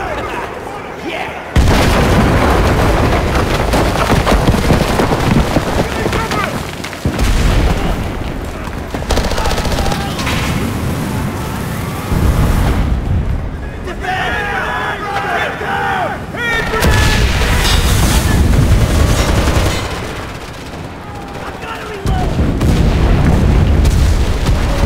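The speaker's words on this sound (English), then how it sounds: "Calling in artillery!" An artillery barrage hits in a WWII Normandy battle game, with US Army and Wehrmacht forces fighting at a steel mill. Heavy booms and explosions pound almost continuously alongside gunfire, with only brief lulls between loud bursts.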